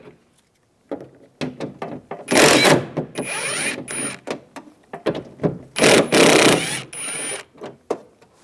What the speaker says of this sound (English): Now we're going to take these 3 bolts out,